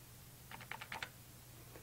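A quick burst of about six light key presses taps on a calculator keypad, faint and close, followed by one more soft tap, with no talking.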